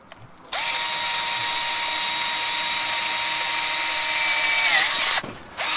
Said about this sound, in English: I'm starting to drill through pretty well